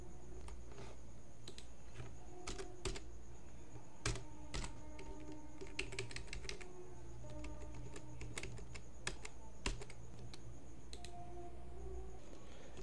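Someone types on a computer keyboard in short bursts of quiet, close key clicks with pauses between, over a faint steady hum.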